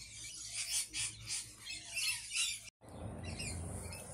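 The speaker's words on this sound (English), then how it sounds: "Then we've got Australian magpie and a little grey butcher bird." An Australian magpie and a grey butcherbird squawk in a tree with banksia and grevillea, several close, rasping calls in quick bursts, then a brief cut and a softer, hissy background.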